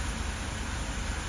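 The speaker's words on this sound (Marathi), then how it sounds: "हे बघा, पावसाची पण झोर कोसळले." Heavy monsoon rain pours down in a Maharashtra village, a dense, steady hiss that fills the whole moment without a break and with no voices.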